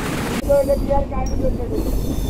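Kapotaksha Express intercity train rolls into Jessore Railway Junction station at night, a close, loud rumble with tonal wheel squeal and screech rising over the running noise.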